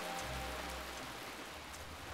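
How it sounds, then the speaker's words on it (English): Steady rain falls throughout in the video game Death Coming, a soft even hiss with faint low rumble beneath, moderately quiet and with no voices. "Let's get the rain going again."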